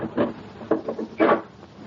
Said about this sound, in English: Close the door. Lock it, Gina.